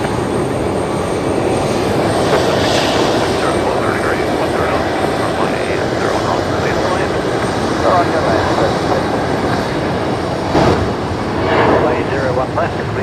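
A heavy aircraft takes off from Brisbane Airport runway 01 left at night, a loud, steady, broadband engine roar that holds throughout, with faint voice chatter underneath.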